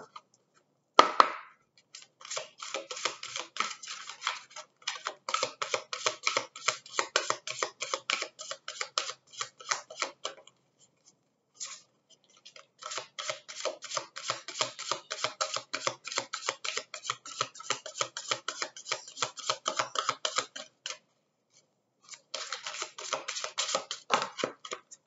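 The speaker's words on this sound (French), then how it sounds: "Je vais d'abord tirer les cartes." Tarot cards drawn and laid out on a table, heard as soft, rapid shuffling and flicking in long bursts separated by short pauses, close and quiet.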